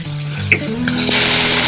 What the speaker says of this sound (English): So in that same oil, that's like a teaspoon of oil in there, we are going to add our onions.